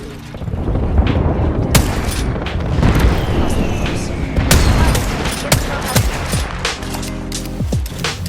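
Gunfire in the video game Apex Legends: sharp, loud shots and bursts crack repeatedly over a dense, busy battle mix, with some faint talk underneath.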